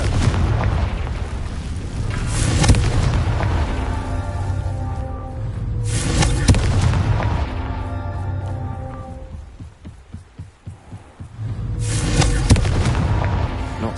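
A Confringo blasting spell in a Harry Potter video game sets off booming explosions, three big roaring blasts each trailing into a crackling rumble, loud and close with a brief quieter lull between them.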